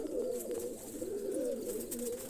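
White pigeons kept in a loft give a steady, close, throaty cooing that rolls in repeated pulses, alone without any voices.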